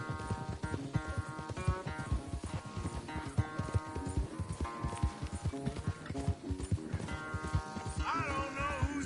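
Horse hooves pound in a fast gallop during a race in Red Dead Redemption 2, a steady rapid clip-clop under continuous game music, with a brief whinny-like rise near the end.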